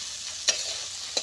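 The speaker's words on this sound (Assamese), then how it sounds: "এয়া চাওক, পিঁয়াজখিনি দি মই খুব সুন্দৰকৈ ভাজি আছোঁ।" Onions sizzle and hiss steadily in a hot pan for a snakehead fish curry, with two sharp scraping stirs standing out above the constant frying noise and no talking.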